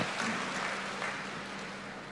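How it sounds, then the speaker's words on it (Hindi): Crowd applause for Prime Minister Narendra Modi at a public event in Betul, Madhya Pradesh, held for CM Mohan Yadav's Ladli Behna Yojana. It is a steady, fairly faint wash of clapping that lasts throughout. "एक बार यशस्वी प्रधानमंत्री के लिए जोरदार ताली बजाओ"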